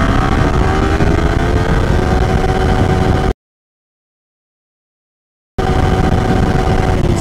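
Yamaha R15 V3 motorcycle accelerating hard in second gear, a loud continuous engine roar with climbing pitch that cuts out abruptly mid-run and then resumes just as loud.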